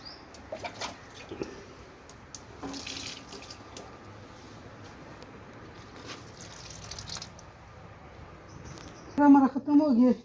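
Water runs and splashes steadily as potted plants, aloe vera among them, are watered, a soft continuous pour at close range, with a voice heard near the end.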